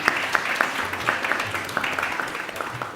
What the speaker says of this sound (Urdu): بہت ساری تالیوں میں